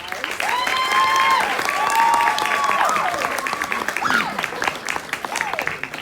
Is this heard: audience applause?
yes